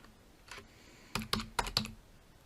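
A handful of soft computer keyboard keystrokes tap out a short search entry, quiet and close, with a brief cluster of clicks near the end.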